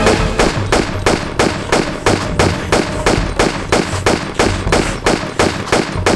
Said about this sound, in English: We just keep firing bullets at him and eventually he should die.